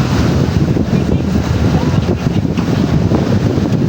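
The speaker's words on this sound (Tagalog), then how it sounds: "Wow, kalalaki ng alon mga idol, oh" Loud wind buffeting a boat at sea among big ocean waves, a steady roaring wash with rumbling gusts throughout and no clear speech.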